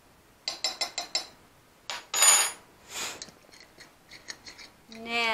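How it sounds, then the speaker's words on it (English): A metal utensil clinks and scrapes against the side of a bowl while meringue pie filling is stirred, in quick rhythmic taps followed by sharper rings and scraping, close and clear. "now we'll stir this all up"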